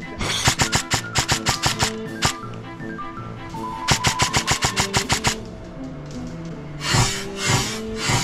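Airsoft guns fire suppressive shots at an outdoor survival game field. Rapid strings of sharp, evenly spaced clicks come in bursts, with pauses between them. A couple of louder, softer-edged pops close the sequence.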